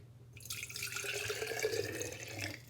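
Water pours from a cup into a glass jar in a steady, close trickle that rises in pitch as the jar fills, over low background hum.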